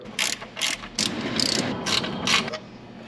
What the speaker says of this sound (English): take out the 2 bolts that connect the starter